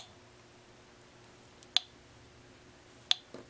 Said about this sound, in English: when I turn it on, you'll hear it click really slowly